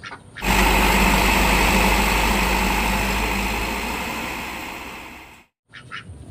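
A toy dump truck gives out a loud electronic engine-rumble effect, a steady buzzing drone that slowly fades over about five seconds, then stops abruptly before a short snippet of another sound.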